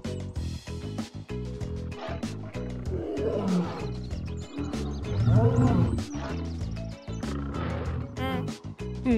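A lion roars in a children's cartoon, loud and close, the rumbling growl rising twice over bouncy background music with horse-like whinnies and hoof clops mixed in.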